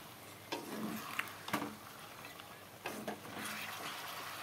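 Curry with freshly added broth bubbles and simmers quietly in a pan, broken by a few sharp stirring scrapes and clinks of a utensil against the metal.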